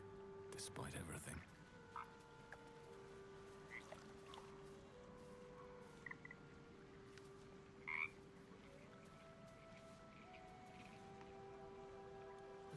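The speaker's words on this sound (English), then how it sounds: "The frog croaks a friendly eep." Frog croaking in Baldur's Gate 3: a short burst of croaks near the start, then a few faint chirps over quiet game ambience and soft tones.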